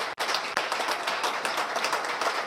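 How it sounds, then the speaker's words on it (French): A church congregation applauding, a dense, steady wash of many hands clapping together, loud and close, sustained without a break, with faint voices mixed in. "Et on acclame la parole de Dieu."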